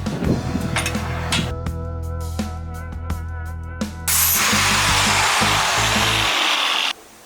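A harsh, high-pitched grinding whine from an angle grinder with a 4.5-inch cutting wheel cutting notches in metal, loud and close, steady for several seconds before cutting off.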